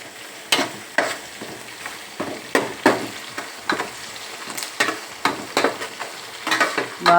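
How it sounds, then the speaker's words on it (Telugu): Onions sizzling and frying in a pan as the base for a fish curry, a steady crackle broken by regular louder scrapes and stirs, close and continuous with no talking. "ఇలా ఉల్లిపాయలు వేగాక"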